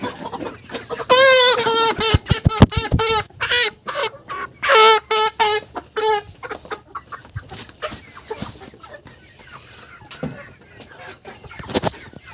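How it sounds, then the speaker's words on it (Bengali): Chickens, among them a red hen, cluck and squawk loudly up close in bursts of harsh, rising calls, with a few sharp knocks and rustles as the birds are handled. "তো একটা লাল মুরগি"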